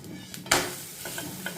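Vegetable flatbread frying in a pan with a light brush of oil after being flipped, giving a short burst of sizzle and a stirring scrape, then quieter crackles and small ticks close up.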